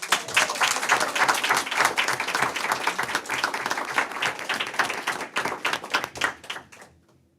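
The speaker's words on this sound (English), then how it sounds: "You can clap if you wish." An audience claps at a board meeting, a dense, steady round of applause from a room of people lasting several seconds before tapering off and fading out.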